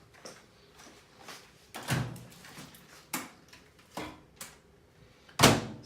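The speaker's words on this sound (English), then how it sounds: "So let's pop her in the microwave and cook her up." A microwave door is opened and shut before a Lean Cuisine spaghetti with meatballs meal is cooked, giving a series of sharp clunks and latch clicks. The loudest snap lands near the end, and no one speaks.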